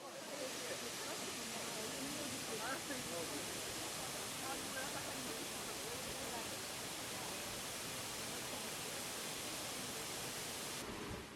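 Waterfall on Jeju Island, a steady broadband roar of falling water that stays constant and loud throughout, with no breaks.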